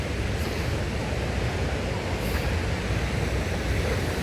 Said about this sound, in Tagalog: Ang kabuuan ng waterfalls.